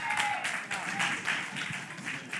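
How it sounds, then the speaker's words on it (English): Audience at a community outreach session clapping hands together, a steady moderate wash of applause with some crowd murmur underneath, lasting the whole moment. "Clap your hands for it, y'all."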